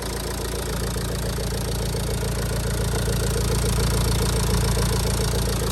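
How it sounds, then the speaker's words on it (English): A 2008 Ford Focus diesel idles steadily and fairly quietly, a continuous low, even rumble with a faint regular knock, heard close up with no voices. "You know, it's pretty silent for a diesel car."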